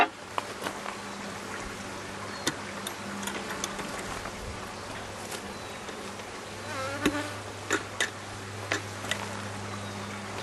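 Honey bees hum and buzz around an opened beehive during a hive check, a steady close insect drone with scattered ticks and clicks from the hive tool and frames.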